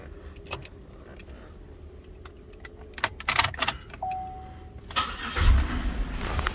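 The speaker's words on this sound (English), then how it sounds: "So right now I'm going to start the car." A car with EGR and PCV concerns is started after keys jangle at close range, the starter cranking briefly before the engine catches and settles into a loud, steady idle.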